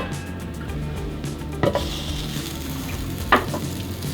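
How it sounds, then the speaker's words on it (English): Butter melts in a pan on the stove before green beans go in, giving a steady, soft sizzling hiss with two brief clinks of utensil or lid, close by and with no talking. "To make the green beans, we're going to add some butter."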